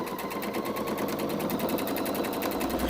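A sewing machine stitches dress fabric in a fast, even run of rapid mechanical needle strokes, close and steady for the whole stretch without pause.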